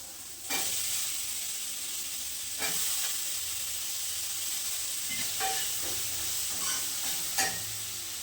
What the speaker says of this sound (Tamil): கத்திரிக்காய் போட்டுருக்கேன். அது ஃப்ரை ஆகட்டும்.